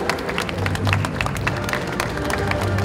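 Loud, steady applause from a large crowd at a children's charity ball in Kryvyi Rih, with dense clapping and some voices mixed in throughout.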